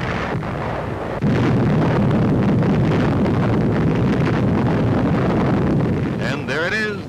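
An atomic artillery shell fired from a large cannon in 1953 detonates, heard as a sustained, loud, rumbling roar with heavy wind-like buffeting that swells and persists, old newsreel quality with a brief whistling tone near the end.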